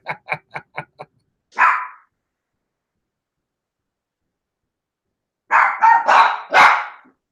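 A Jack Russell Chihuahua mix lets out a rapid string of five sharp, close yaps, then one longer bark, and after a silent pause a burst of three or four loud barks running together.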